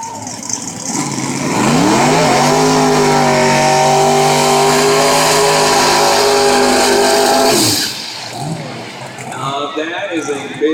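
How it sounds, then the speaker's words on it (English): A twin-turbo 1967 Camaro revs hard and holds a loud, roaring burnout for several seconds, its pitch climbing and then steadying before cutting off, with people's voices underneath. "That is a big smoky burnout, baby."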